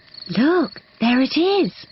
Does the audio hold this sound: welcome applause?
no